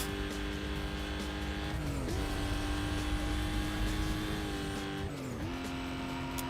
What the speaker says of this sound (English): This car is supposed to have a V12. It doesn't sound like a V12.